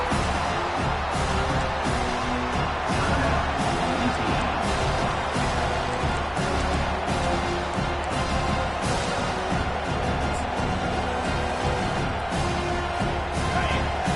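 A football stadium crowd roars nonstop on a fourth-down play, a dense, loud wall of noise with no breaks from start to finish.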